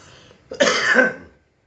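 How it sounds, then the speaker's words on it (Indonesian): A single cough, sharp and close, with a short rough burst that fades quickly into quiet. Nobody speaks around it. "sorry ya, lagi batuk, lagi musim batuk"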